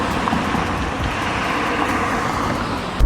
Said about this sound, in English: So right now I've just entered the freeway